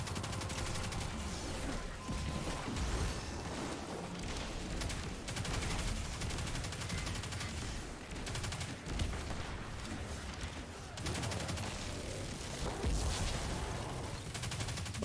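Sustained rapid gunfire in the Destiny 2 video game, shots fired at emblems, a dense continuous volley of bursts with low rumble throughout.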